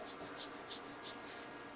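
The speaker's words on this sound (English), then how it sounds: "You can actually hear the dry brush sound" A dry brush rubs across paper while drawing a cat, making soft, steady scratchy strokes in a quiet, close room with no talking.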